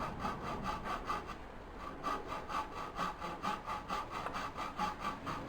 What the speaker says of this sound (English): now we are going to cut the extra from the plug we just put in